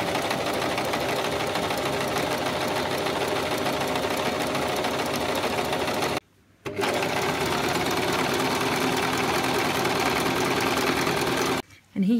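A sewing machine with an applique presser foot stitches applique in a fast, steady, close-up mechanical whir, stopping briefly twice before resuming.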